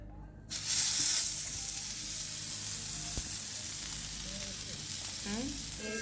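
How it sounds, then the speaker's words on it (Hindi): A steady, loud sizzle of fish frying in hot oil, continuous crackling hiss with faint clatter and distant voices in the background. "चलो इसमें फ़िश फ्राई करते हैं।"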